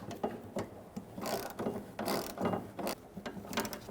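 Ratchet with a 10mm socket tightening the fuel filler neck bolt on a 2000-2007 Ford Taurus, a close series of quick clicking pawl strokes in uneven bursts, with no talking.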